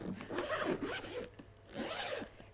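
A suitcase compartment zipper is pulled open in two long rasping strokes with a short pause between them, close and clear, with no talking.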